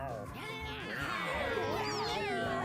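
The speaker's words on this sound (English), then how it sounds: "It just makes a meow sound." Cat meow from a video game menu, drawn-out wavering meowing calls over a continuous layered tone, close and clear.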